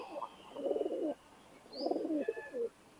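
Teddy 128 pigeons give two soft, close, rolling coos, each about half a second long, with a brief pause between them and quiet surroundings.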